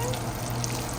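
Green tomato slices frying in a cast iron pan, a steady close sizzle with a low hum running beneath it throughout.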